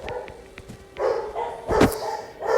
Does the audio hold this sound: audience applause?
no